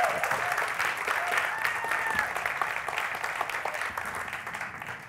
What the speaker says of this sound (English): Can you give an applause?